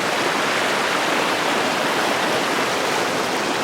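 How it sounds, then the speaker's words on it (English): A hiker wades across a shallow creek crossing below a waterfall on an Arizona trail, with a loud, continuous rush of flowing water filling the foreground throughout. "I guess anywhere around here is good for the creek crossing to get to the falls."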